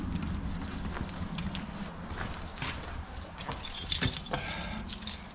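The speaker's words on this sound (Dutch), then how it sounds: "Dan hopelijk dat ik nu nog de juiste sleutel kan vinden." A ring of keys jangles and clinks while the right key is sought, a close metallic rattling that grows brighter toward the end over faint outdoor background.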